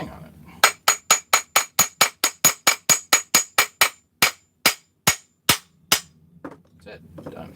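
Sharp metallic hammer blows on a crankcase part to knock it free, about twenty rapid ringing strikes in a quick run, then a few slower, spaced hits, loud and close before quiet handling noise.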